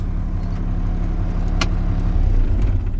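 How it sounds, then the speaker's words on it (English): A truck engine idles loud and close with a steady low rumble, then a brief sharp click or rattle is heard as the engine is switched off during a pre-trip inspection. "At this time, I will turn the truck off."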